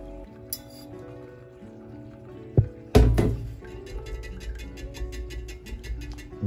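Hot hibiscus water is strained and drained in a home kitchen, with sharp clinks of a utensil against a container and a sloshing pour, followed by a softer trickle and light rattling.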